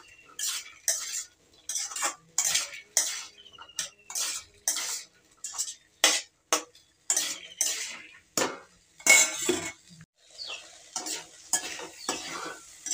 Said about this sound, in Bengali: ভালো করে নেড়ে নেড়ে ভেজে নিতে হবে।